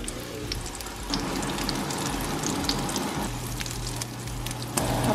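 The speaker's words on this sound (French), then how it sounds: "on met ça dans l'huile" Plant-based veggie patties sizzle and crackle steadily in hot oil in a pan, a close, continuous frying hiss with scattered pops and no voices.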